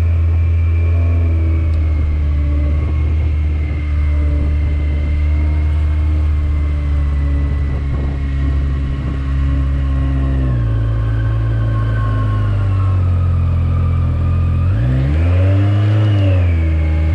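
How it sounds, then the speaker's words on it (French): A Yamaha XJR motorcycle engine idles too high, a loud, steady, close drone that dips in pitch partway through and then swells briefly near the end before settling again. "mon ralenti est tellement haut, c'est un carnage"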